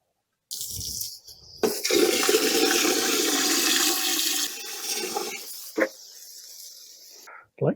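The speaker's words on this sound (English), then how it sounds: "I'm going to add some water to this right now." Water pours into a tub in a rushing, gurgling stream that starts abruptly, runs steadily for several seconds, then thins and trickles off, with a few short splashes and knocks after, close by.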